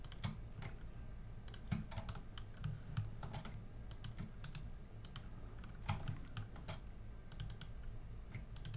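Quiet, steady computer clicking and key tapping at a desk while modeling in Blender, a fast irregular patter of small clicks close by with a low hum underneath.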